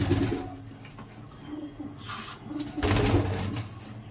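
Pigeons coo softly at close range, with bursts of rustling and fluttering wings in between.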